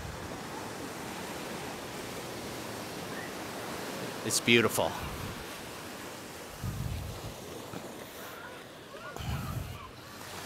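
Strong Caribbean ocean waves surge in a steady broad wash with a few louder swells, while a person briefly speaks over the surf.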